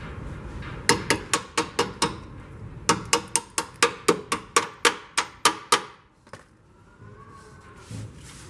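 Sharp metallic hammer strikes ring out in fast bursts of several blows, pausing briefly between sets, then stopping, as a bolt is hammered out during a Panhard bar install.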